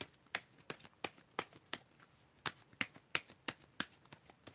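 Cards are riffled and snapped in a series of quick, crisp bursts, close by and fairly quiet.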